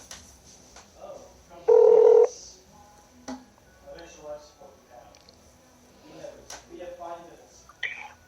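Telephone keypad dialing tone, a loud steady burst lasting about half a second, used to call a guest back, standing alone between stretches of talk.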